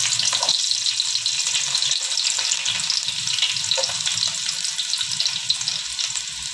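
Onion, cashews and raisins frying in ghee, a dense, steady hiss of bubbling fat heard close up, with faint occasional stirring underneath.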